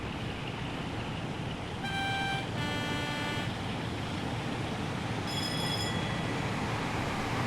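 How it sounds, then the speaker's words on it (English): A Class 802 IET train in the railway game Train Sim World 6 on the Riviera Line: a steady rumble of the moving train under two tonal horn blasts, one long and one short, heard at a distance. "Oh, there's an IET here. This is the 802 that comes with the routes."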